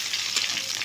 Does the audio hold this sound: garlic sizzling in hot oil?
yes